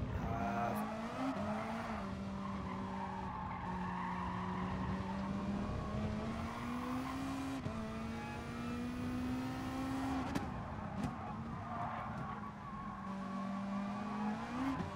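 A race car in GT Sport holds a steady engine drone with gear changes and shifting pitch, while tires squeal through tight corners; sustained and fairly quiet throughout.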